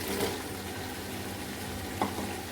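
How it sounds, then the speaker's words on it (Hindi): Tinda being added to a pan of fried meat masala, with a steady low sizzle and a couple of soft splashy thuds as the pieces drop in. "अब इसमें हम टिंडे डाल देंगे"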